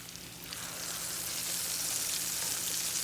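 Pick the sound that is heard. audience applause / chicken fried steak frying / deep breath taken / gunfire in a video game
chicken fried steak frying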